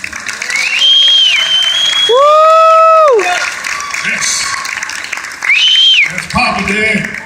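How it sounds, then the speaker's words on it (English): Audience applause and cheering at a cultural heritage celebration in Aurora as an honoree is introduced, loud continuous crowd noise under sustained tonal whistling or musical sounds that rise and fall, with some voices mixed in. "Please give a round of applause to Mr."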